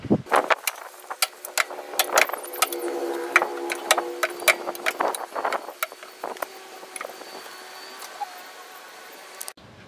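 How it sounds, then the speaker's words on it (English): A travel trailer's jack is cranked down, a close rapid run of metallic clicks and ratcheting ticks over several seconds, easing off toward the end before a sudden stop. "lower the jack here, and set the trailer back on its tires"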